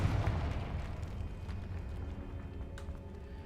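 A Confringo blast spell fired in Hogwarts Legacy, a loud rumbling explosive burst that starts strong and decays into a sustained low roar with faint crackles over a few seconds.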